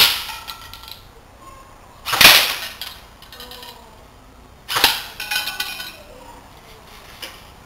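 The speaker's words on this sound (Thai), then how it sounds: "ทดสอบยิง AK06 ที่ระยะ 10เมตรลูกกระสุนก้อนบอล4020" Two sharp test shots from an AK06 airsoft rifle firing 0.20 g BBs at a 10-metre target, each a loud crisp crack with a short rattling tail, spaced a few seconds apart over a quiet outdoor background.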